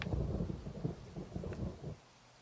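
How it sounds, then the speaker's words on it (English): Rain and rolling thunder in the video game Vampire Rain on PS3, a low, dense rumble with steady downpour that runs for about two seconds and then cuts away to near silence. "it's really pouring"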